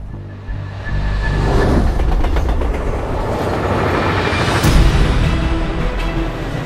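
A train rumbling along the rails, a loud steady roar with rhythmic clacking and a rising whoosh partway through.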